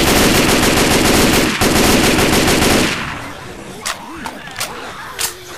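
M16 rifle in the Left 4 Dead 2 video game, a loud, rapid sustained stream of close automatic gunfire for about three seconds, followed by scattered clicks and clatter as the shooting stops.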